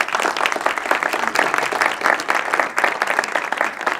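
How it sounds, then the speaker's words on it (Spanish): An audience at an outdoor poetry and music event on a street claps for a pianist, producing dense, lively applause that holds steady from start to finish. "Un aplauso para él."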